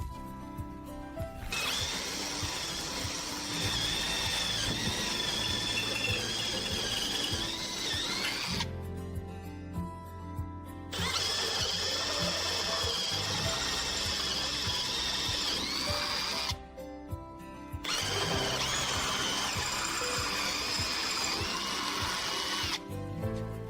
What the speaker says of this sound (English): Now that we have drilled with a smaller drill, we will step up to the correct size.